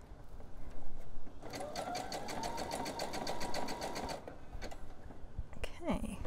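A sewing machine stitching a zigzag seam on short knickers, a fast steady whirring rattle that starts, runs for about three seconds and stops, heard close beneath quiet room sound.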